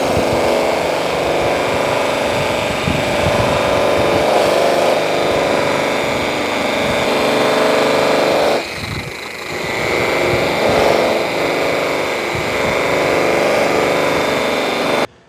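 A buffing wheel spins at 1800 RPM, polishing a brass cymbal with light pressure, giving a loud, steady motor drone that dips briefly partway through, then resumes its even whir.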